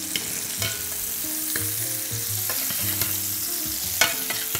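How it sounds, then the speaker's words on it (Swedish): Beef frying in a pan with garlic and thyme, giving a continuous close sizzle broken by bursts of spattering and stirring, loud and steady with no voices. "Just med vitlök och timjan när man steker kött"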